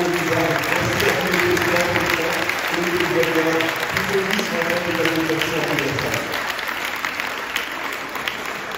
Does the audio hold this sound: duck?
no